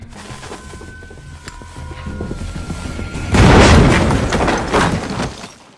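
Explosives blasting through a wall in a zombie film scene, a sudden loud burst midway that rolls into a rumbling, crackling roar with debris, following a quieter stretch of tense score.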